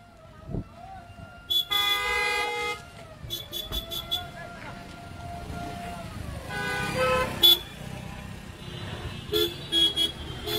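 A convoy of cars heading toward Beed with an activist sounds repeated horn toots in short bursts and long blasts over rumbling road traffic, with voices in the background.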